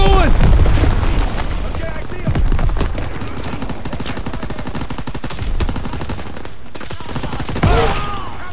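Sustained automatic gunfire and booming blasts in a World War II battle in Call of Duty WWII, loud and dense throughout, with shouted voices mixed into the chaos.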